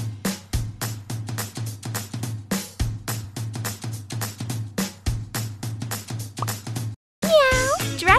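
Repeated short cartoon cat meows from a kitten pet care game, looping in a steady rhythm over a low droning tone, ending in a brief rising musical jingle.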